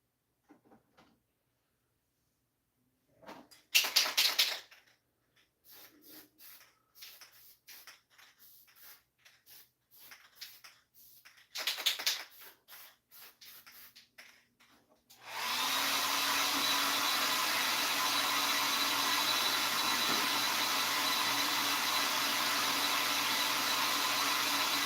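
Sealant sprayed onto a Kato Union Pacific SD90MAC model locomotive, with scattered handling clicks and rattles first, then a loud continuous spray hiss that runs steadily to the end.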